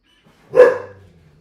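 A single loud, close dog bark, sharp and brief, rings out against near silence.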